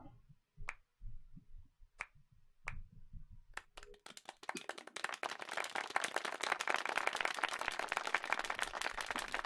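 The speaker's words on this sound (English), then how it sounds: "Followed by a rainstorm of applause," Applause from an audience in a concert hall after a piano performance in the Nekopara Vol 3 game: a few isolated claps first, then dense, steady clapping swells in and keeps going.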